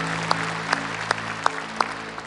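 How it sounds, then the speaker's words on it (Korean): A church congregation at a Korean service claps together in a steady, evenly spaced rhythm, about five distinct beats over a constant room hum. "말씀을 주신 하나님께 감사의 박수 올려드립니다."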